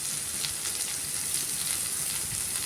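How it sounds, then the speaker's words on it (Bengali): Chopped onions frying in a pan, frying for a potol (pointed gourd) curry, give off a steady, close sizzle that holds level throughout with no voices. "পেঁয়াজগুলো একটু লাল লাল করে ভেজে নেব।"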